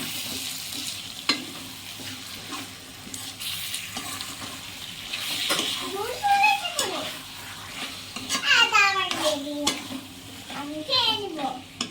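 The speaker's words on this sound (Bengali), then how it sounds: "মাংসটা দিয়ে দেওয়ার পর এটাকে একটু নাড়িয়ে নেবো, মিক্স করে দেবো" Mutton is stirred and scraped in a hot cooking pan for Bengali-style mutton kosha, with a steady sizzle under repeated spoon strokes while a voice and an adult's voice chime in.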